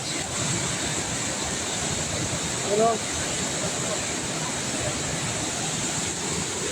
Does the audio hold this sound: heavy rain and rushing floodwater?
yes